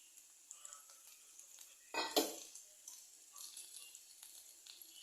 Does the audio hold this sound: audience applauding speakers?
no